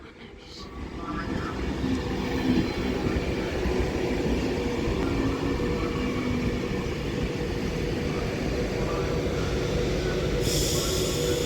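Avanti West Coast Class 390 unit 390107 running into Stafford station on the West Coast Main Line, a steady loud rumble and rail roar that builds quickly and holds close throughout.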